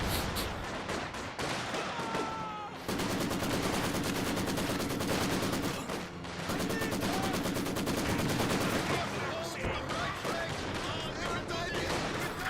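Machine gun fire and battle noise in the World War II strategy game Company of Heroes 2, a dense, continuous clatter of bursts under game effects, with a short lull near the third second before the fire resumes.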